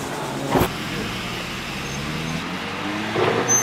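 Street racing car from the 1990s Toronto-area scene idling and rumbling steadily nearby, with a brief louder surge at the start and another near the end, no talk over it.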